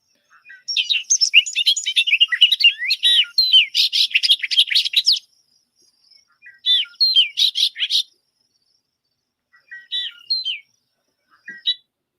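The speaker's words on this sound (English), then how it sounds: "So here's the bobolink call." Bobolink calls in grassland: rapid bubbling, jangling chirps in a long burst, then shorter phrases after pauses, close and clear with nothing else in the background.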